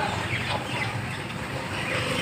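African lovebirds in a pet shop give a steady, dense chorus of chirps and squawks, continuous and fairly loud throughout, with no speech.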